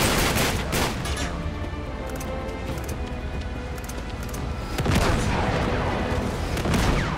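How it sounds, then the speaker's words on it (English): RPG fire and explosions in the video game Uncharted 3, heavy booming blasts and gunfire layered into a dense, loud barrage with a couple of sharper bursts near the end. "Oh, RPG."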